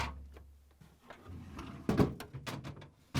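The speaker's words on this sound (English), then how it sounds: "To get the drawers out, you just have to pull out till they stop, then lift up on the front a little bit and pull them out the rest of the way." A plastic drawer on a Samsung refrigerator is slid out, giving scraping slides followed by a few clunks and knocks close by.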